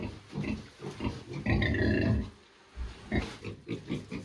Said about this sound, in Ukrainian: Це, це в нас свинка, це в нас машка.